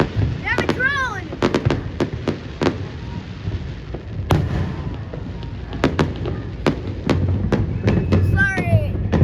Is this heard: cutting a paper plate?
no